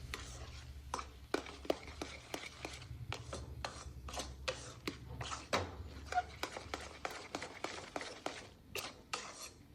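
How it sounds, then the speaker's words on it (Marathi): Coconut ladoo mixture being stirred and scraped with a spoon in a pan, giving repeated sharp scraping and tapping strokes in an irregular rhythm, close and fairly clear with no talk. "आता आपल्याला पुन्हा हे मिश्रण व्यवस्थित मिक्स करायचे आहे"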